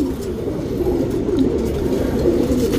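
Patta pigeons, a fancy pigeon breed, coo in a loft: steady, soft, overlapping low cooing, close and continuous, with no talking.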